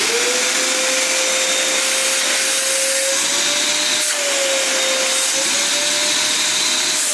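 An electric vacuum sucks dust out of holes drilled for winch anchors in a garage floor, a loud, steady close roar with a faintly wavering tone and no pauses.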